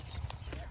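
A horse's hooves give a couple of faint, quick clip-clop strikes on the ground while the animal is being caught on a farm.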